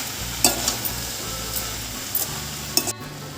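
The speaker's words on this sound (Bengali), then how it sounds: "এবার চিচিঙ্গাটা সব কিছুর সাথে ভালো করে একটু কিছুক্ষণ সময় ধরে নাড়াচাড়া করে নেব।" Snake gourd stirred with other ingredients in a pan, a steady close sizzle running throughout with a few sharp spoon clinks against the pan.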